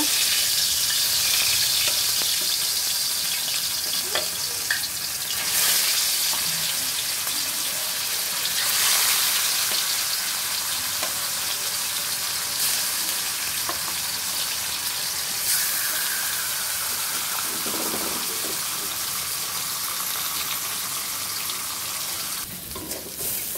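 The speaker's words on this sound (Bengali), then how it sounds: "আমার আরও কিছু মাছ বাকি আছে, সেগুলোও ভেজে নিব" Chital fish frying in hot oil gives a steady, close sizzle and crackle that runs without a break from start to end, with no talking.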